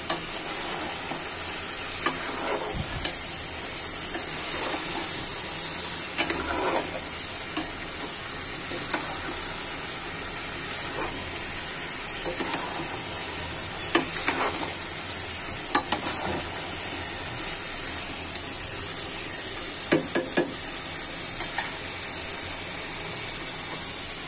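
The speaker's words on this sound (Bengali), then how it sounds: "সম্পূর্ণ মুরগিটাই রান্না করে নিচ্ছি" Whole broiler chicken frying in a pan, a steady close sizzle with intermittent scraping and clattering stirs against the pan over a long stretch.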